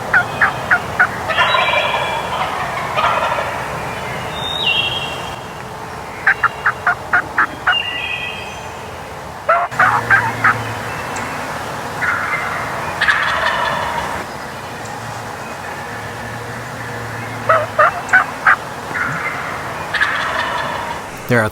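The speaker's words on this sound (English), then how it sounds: "There are 3 gobblers and a few hens that flew down to the left." Three wild turkey gobblers gobble in the open, short rattling bursts repeating in clusters at moderate distance over a quiet outdoor background, with no talking.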